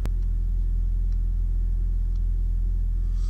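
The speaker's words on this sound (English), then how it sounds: "you can see the motor's on, and the motor is basically powering up the main hybrid battery" A Toyota Prius hybrid with its engine running to charge the main hybrid battery, a loud, steady low rumble idling continuously up close, without voices.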